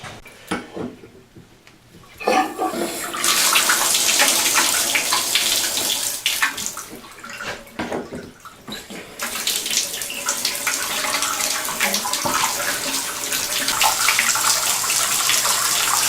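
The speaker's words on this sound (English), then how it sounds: "let's go turn the water on and see what we got." Water runs from an American Standard bathtub faucet under repair, starting after a quiet moment as a loud, steady rushing gush into the tub with slight shifts in flow and no talk.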